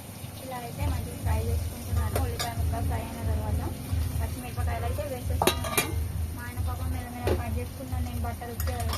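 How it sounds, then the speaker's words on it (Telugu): Onion pieces frying in a pan give a steady low sizzle throughout, with occasional sharp clinks of a utensil against the pan while a person talks over it. "ఇలా అయితే మంచిగా వీటిని ఒక 10 నిమిషాలు ఫ్రై చేసుకుంటున్నాను."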